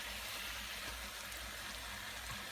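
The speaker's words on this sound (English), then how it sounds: "Bubbling away." A taco frying in about a cup of oil in a skillet, a continuous soft hiss and crackle of bubbling fat, steady and faint throughout with no talk.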